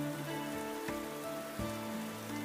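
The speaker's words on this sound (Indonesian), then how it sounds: "Di luar hujan gede banget nih." Heavy rain pours steadily outside in the Sakura School Simulator game, a constant wash of falling water behind a sustained tonal music bed, with no voices.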